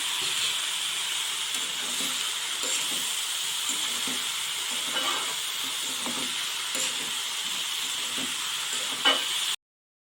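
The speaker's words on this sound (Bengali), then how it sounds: "দিয়ে কিছুক্ষণ নাড়াচাড়া করে কিছুক্ষণ রেখে রেখে দেবো" Spices stirring and frying in a hot pan: a steady, dense sizzle and hiss continues throughout, with soft scraping stirs, then stops abruptly near the end.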